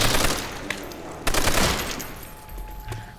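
Browning machine gun from a mystery box in Call of Duty: World at War zombies, firing sustained loud bursts with a sharp extra shot near the start and mid-clip, dense and close with no talk.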